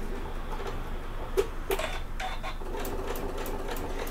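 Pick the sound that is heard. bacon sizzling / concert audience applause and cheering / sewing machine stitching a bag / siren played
sewing machine stitching a bag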